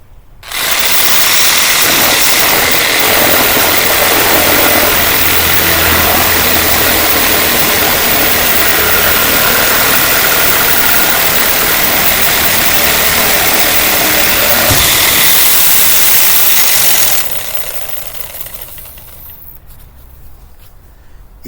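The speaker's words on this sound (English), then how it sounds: "Sawzall." A Sawzall reciprocating saw cuts into a camper roof with a loud, harsh, continuous buzzing roar that runs for about seventeen seconds before trailing off, heard close and alone.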